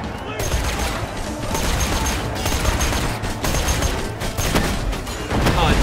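Torque weapons firing and exploding in Borderlands 2, a dense, loud barrage of gunshots and blasts with crackling impacts, sustained close throughout, with voices talking underneath.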